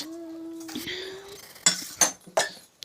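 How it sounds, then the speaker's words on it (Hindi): Kitchen utensils and dishes are set in place with a few faint, sharp metallic clinks spaced out over the second half, after a soft tonal hum at the start. "तो पहले हम अपने बर्तन सारे जो हैं वो अच्छे से जमा लेते हैं।"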